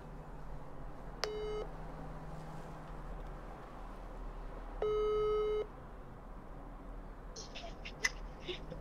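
An outgoing telephone call rings out in two long ringback tones a few seconds apart, heard over a quiet hum during a live radio-style stream, with brief beeps near the end.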